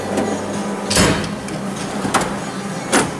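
A tool box drawer slides open and shut with a few scraping, clunking metal knocks spaced about a second apart, close and fairly loud over a low background hum.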